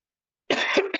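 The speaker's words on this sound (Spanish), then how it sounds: "no sé qué me pasa quedando con una tos" After half a second of silence, a man gives a close, loud cough, a harsh burst followed by two quick smaller coughs.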